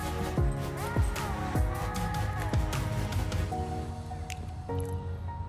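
Someone bites into a Thanksgiving Gobbler leftover sandwich with turkey, cranberry sauce and mushy stuffing, giving several wet squishy chewing sounds up close, followed by softer mouth noises.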